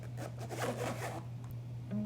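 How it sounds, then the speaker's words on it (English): A single close zipper being pulled on a webcam's camera box, a quick rasping run lasting about a second over a faint steady hum. "It's got a zipper on it,"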